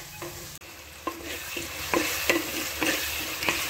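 Onions with curry leaves and salt fry in a pan for a mackerel fish curry, crackling with a constant close sizzle while a spatula scrapes and stirs in a loose, repeated rhythm. No one speaks.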